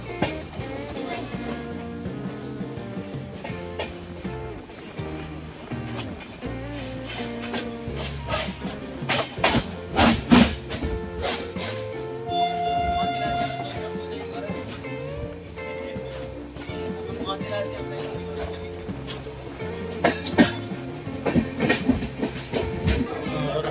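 A passenger train runs on the tracks in Odisha, arriving toward Brahmapur on a journey from Gudur to Balugaon. Continuous rumbling and rhythmic clickety-clack wheel beats fill the clip, with louder clanks along the way.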